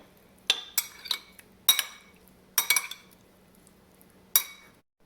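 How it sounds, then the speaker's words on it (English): Spoon clinking and scraping against a bowl while prawn masala ingredients with soy sauce and chili powder are mixed, several sharp close taps in irregular bursts with quiet gaps between. "a little bit of soy sauce. Just mix this all together"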